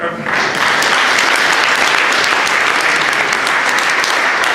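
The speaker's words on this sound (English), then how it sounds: "So please give yourself a round of applause" Loud, sustained applause from a closing plenary session audience at an energy conference, dense clapping that starts abruptly and holds steady throughout with no talk over it.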